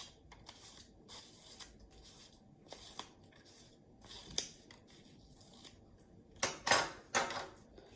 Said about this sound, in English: And then you're going to cut it into small squares.